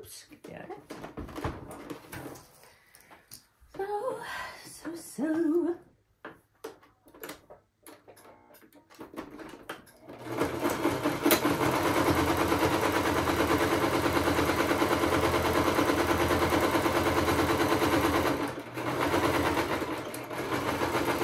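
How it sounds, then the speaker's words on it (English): A sewing machine stitches cotton fabric for a handmade sensory toy. Scattered handling clicks and pauses come first, then the motor runs in a loud, steady, rapid mechanical chatter for about ten seconds. "I want to do a couple more rounds on the sewing machine"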